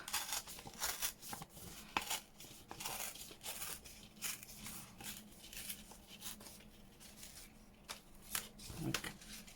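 Amazon packaging paper is torn along its crease by hand, a series of close, quiet crisp rips and crinkles, with faint talk mixed in.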